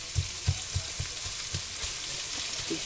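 Onions fry in a pan for American goulash, seasoned with salt and pepper, giving a steady bright sizzle broken by a regular series of soft thumps as they are stirred and broken up.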